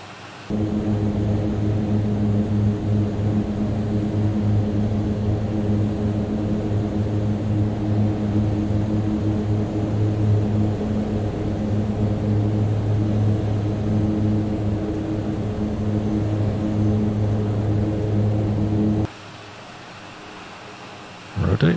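Mitsubishi MU-2 turboprop taking off from Colorado Springs, a loud constant engine roar with a steady droning tone heard inside the cabin, dropping abruptly near the end.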